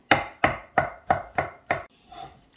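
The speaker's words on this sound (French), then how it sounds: "Et là, on coupe très fin." A knife chops food finely on a board, six evenly spaced sharp strikes about a third of a second apart, close and clear, followed by a softer final cut and no talking.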